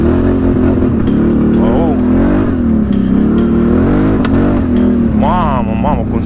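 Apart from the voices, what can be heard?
ATV engine revving with modified exhaust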